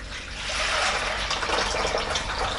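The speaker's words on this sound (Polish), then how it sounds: "Nalewamy wody." Water poured steadily into a bowl of buckwheat flour made from unroasted buckwheat groats for batter, a continuous close gushing stream lasting the whole moment with no talk over it.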